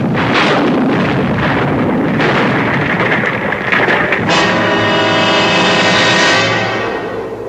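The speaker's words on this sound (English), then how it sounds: "suddenly there was a flash of light and a loud explosion." A loud explosion sound effect from a 1975 CBS radio mystery drama, with a broad roaring blast that rolls on as a sustained rumbling, crackling wash before slowly easing off, with no voices.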